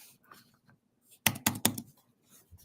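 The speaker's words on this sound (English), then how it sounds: "I was typing, so I had muted" A computer keyboard is typed on in a quick burst of three or four close, sharp key clicks, with faint scattered taps before and after in an otherwise quiet room.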